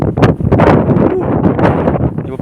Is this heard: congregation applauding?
no